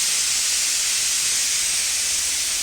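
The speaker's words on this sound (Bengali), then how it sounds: "প্রেশার কুকারে আলু সিদ্ধ হচ্ছে" A pressure cooker boiling potatoes on a home kitchen stove gives off a steady, continuous hiss of escaping steam that holds even for the whole stretch, with no talk.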